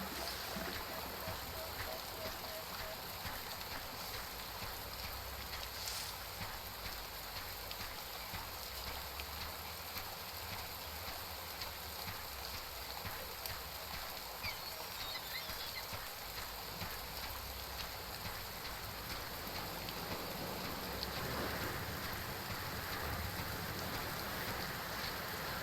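Steady rain patters without a break across a wet island campsite where a fire will not catch, a dense continuous hiss with a few louder drops, and voices now and then under it.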